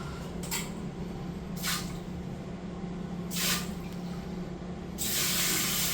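A Thai bum gun bidet sprayer fires several short bursts of water, each a bright hissing spray lasting under a second, with the last burst running longer, all close up over a steady low background hum.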